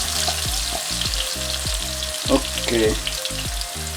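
Jamaican brown stew fish stirred in a frying pan, with a steady sizzling hiss and spoon movements throughout, plus a brief spoken word near the start.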